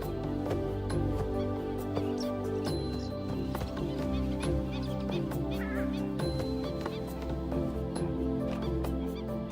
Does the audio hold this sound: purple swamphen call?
yes